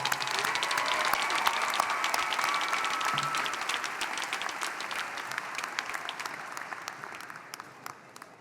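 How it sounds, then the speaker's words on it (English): A commencement audience gives a steady round of applause for a graduate and his family, dense clapping that holds evenly at a moderate distance before thinning slightly toward the end, with no one speaking over it. "Let's give these folks another round of applause."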